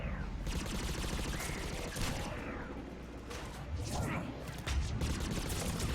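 Gunfire in the video game Mass Effect 3, sustained bursts of automatic weapons in a firefight, with continuous rattling shots and occasional louder blasts, mixed with voices talking over the combat.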